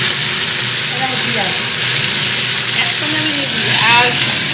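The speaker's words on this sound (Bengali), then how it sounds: "বরবটি আলু আর পেঁয়াজ দিয়ে ভাজা করছি" Yardlong beans, potatoes and onions fry in a pan with a steady, loud broadband sizzle throughout, while a voice talks over it.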